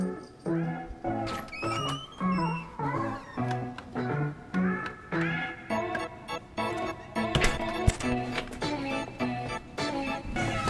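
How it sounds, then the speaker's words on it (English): A three-legged cat meows repeatedly in short, clear calls with a steady rhythm, close by and mostly alone. "Three-legged cat."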